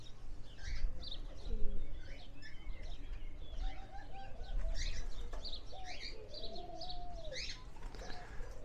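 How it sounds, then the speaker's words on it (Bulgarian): Pigeons in a campground play area near Varna coo in soft, repeated phrases while wings flap in several bursts, with light chirps scattered through an open outdoor ambience. "Гълъби."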